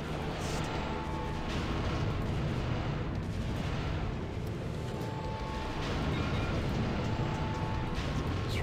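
Space battle in StarCraft: Brood War as a fleet of ships attacks the prototype cruiser Omicron, a dense, steady roar of overlapping booms and weapon fire that stays loud and unbroken throughout.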